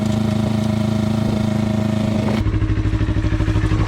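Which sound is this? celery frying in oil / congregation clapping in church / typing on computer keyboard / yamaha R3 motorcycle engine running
yamaha R3 motorcycle engine running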